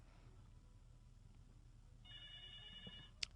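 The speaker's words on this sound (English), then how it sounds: "Telephone just ringing in the back." A telephone rings faintly in the background with a short electronic trill over a low room hum, followed by a brief click.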